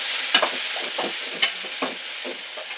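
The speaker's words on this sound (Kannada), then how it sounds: "ಎಲ್ಲ ಚೆನ್ನಾಗಿ ಫ್ರೈ ಮಾಡ್ಕೊಳ್ಳಿ" Food frying in a pan with rhythmic stirring strokes scraping the surface every half second or so over a steady, close sizzle.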